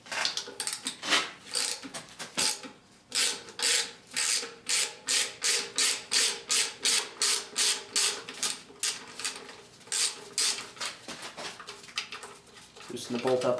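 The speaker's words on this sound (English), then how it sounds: "Then loosen this 10mm tensioner bolt until you have enough slack to pull the belt" A wrench ratchets in quick, even clicking strokes while loosening a 10mm tensioner bolt on a Honda Accord's power steering pump belt, clicking close and steady for about ten seconds with a short pause partway.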